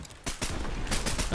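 Gunfire in a first-person shooter game with custom gun builds: a few sharp, loud bursts of shots spaced across a moment, fairly close and punchy over game background noise.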